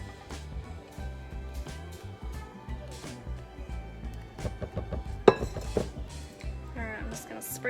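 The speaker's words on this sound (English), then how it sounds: "Spread this out with my spoon or my spatula the best that I can." A spoon spreading apple cinnamon bread batter in a pan, with soft scraping and occasional clinks and knocks against the dish, fairly quiet and close, with no talking.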